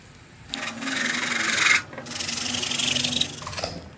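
A piece of PVC pipe is cut by hand, giving two long, steady rasping strokes separated by a brief pause, close and fairly loud with no talking.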